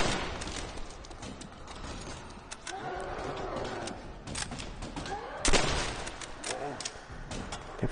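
Gunfire in the Call of Duty: World at War zombies mode, a run of shots and bursts of varying loudness mixed with game effects, with a louder blast near the middle-late section and a voice talking over it.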